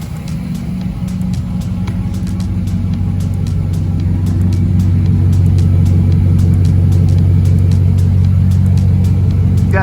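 A 2013 GMC Sierra pickup engine idles steadily while warming up, a deep, throaty dual-exhaust rumble that builds slightly louder over the clip, running alone without voices.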